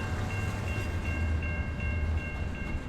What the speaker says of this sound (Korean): 그 시작을 알린 것은 철길 소리였다.